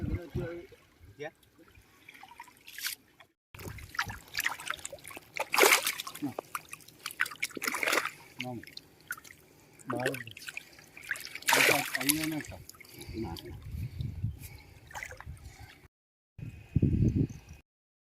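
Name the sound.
fishing net being pulled through water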